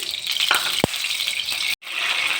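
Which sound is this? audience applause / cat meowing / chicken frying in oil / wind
chicken frying in oil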